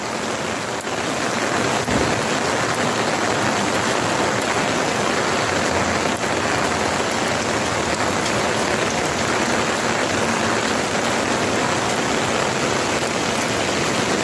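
Heavy rain pours down steadily, a dense, loud hiss of water that continues unbroken throughout.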